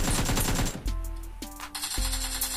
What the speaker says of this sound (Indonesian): Kemudian kita coba nembak.